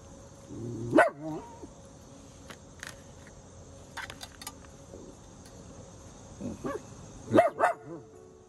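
An old female dog gives two short, sharp barks, one near the start and another pair near the end, with quiet rustling and jingling in between.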